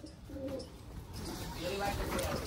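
Pigeons coo close by in soft, repeated low burbling calls, while someone talks over them.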